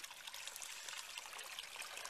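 Water trickles steadily through a Sawyer Mini water filter from a stream source, a soft, faint, even hiss with no voices.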